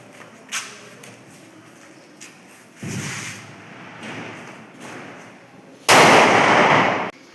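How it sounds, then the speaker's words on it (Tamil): Diwali firecrackers bursting outdoors: a few sharp distant pops, then a longer crackling volley, and finally a loud, close burst of rapid crackling that lasts over a second. "கைஸ், இப்போ இன்னொன்று பட்டாசு வெடிக்க போகிறேன்."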